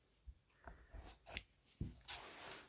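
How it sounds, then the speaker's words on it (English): A hook-blade knife cuts off the stockinette of a cast with a few faint, close snips and soft rustling of fabric in a quiet room. "cut that stockinette off."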